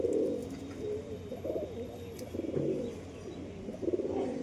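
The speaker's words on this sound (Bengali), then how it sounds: "দেখো পায়রা দেখো" Pigeons coo in a low, repeated rhythm close by, the soft throaty calls rising and falling over several seconds with faint background hiss and no talking.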